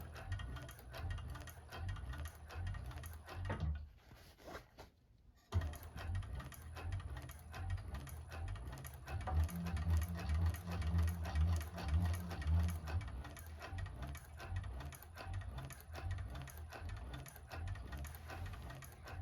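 An industrial 1341 cylinder arm sewing machine stitching a bag, a close, steady mechanical whir and rattle running in bursts, with a short pause partway through and no talking.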